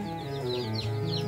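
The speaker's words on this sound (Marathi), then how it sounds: "हे आपण ब्रूडिंगसाठी पूर्ण पिल्ले आपण घरी आणलेले आहे" Native desi chicks being brooded indoors at home chirp continuously in high, overlapping peeps over a steady low hum, close and moderately loud, with no talking.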